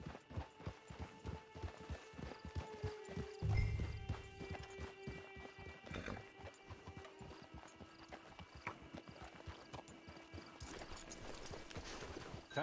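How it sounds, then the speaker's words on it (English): Horse hooves clip-clopping at a steady walking rhythm in the Red Dead video game, close and clear throughout, with an occasional whinny and faint ambient tones underneath. "It's your horse."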